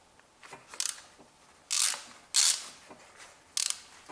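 A ratchet tool turns anticlockwise to loosen a bolt in the engine bay of a BMW 3 Series during engine removal, giving several short bursts of sharp metallic clicking separated by pauses.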